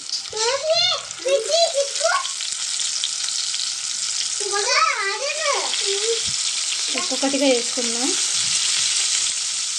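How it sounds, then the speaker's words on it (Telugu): Masala-stuffed brinjals dropped one by one into hot oil sizzle steadily throughout, while a voice talks over the frying in bursts. "దీంట్లో మనం మసాలా పెట్టుకున్న ఈ వంకాయలను వేసుకుందాం"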